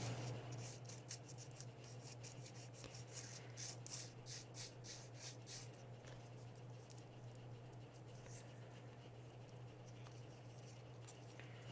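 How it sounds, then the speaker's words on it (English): Light, steady rubbing and rasping as a painted model is sanded by hand, quiet and close, with short scratchy strokes that are busier early on over a low constant hum. "definitely needs sanding"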